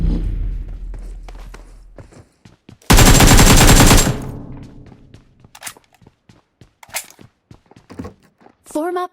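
Automatic gunfire bursts from the battle royale game BGMI crack out in rapid clusters, with one long sustained loud volley in the middle and scattered sharp shots and thuds around it, with game voice chatter.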